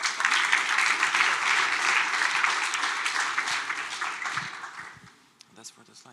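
An audience at the ZK Hack Kraków hackathon kick-off gives sustained applause for a sponsor, loud at first and then fading out. Near the end, a few voices and stage sounds are heard as the clapping stops.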